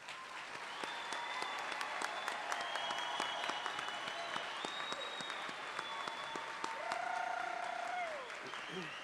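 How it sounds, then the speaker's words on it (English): Sustained applause from a college commencement audience honoring applied science degree graduates, steady and fairly loud throughout, with faint tonal sounds and voices mixed in. "Let's give our applied science degree recipients another round of applause."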